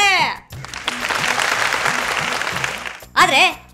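A crowd applauding at a political speech, a dense patter of many hands that swells, holds for a few seconds and cuts off, with a speaking voice before and after.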